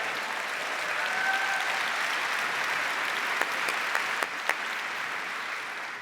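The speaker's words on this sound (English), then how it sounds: "Yeah, you might clap." Audience applause at a live tech sneak-peek presentation, steady broadband clapping filling the whole stretch with a few sharper individual claps standing out near the end.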